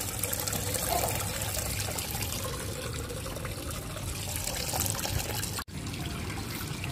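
Running water trickles steadily through pipe channels used to germinate water spinach seedlings without rockwool, a close, continuous flowing wash with one brief dropout near the end.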